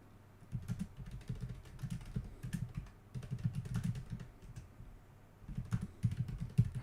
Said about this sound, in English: I'm typing this.